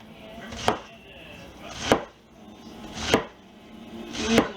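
A knife cuts straight across a head of cabbage by hand for creamy coleslaw, four crisp, evenly spaced chops about a second apart, close and distinct with quiet pauses between.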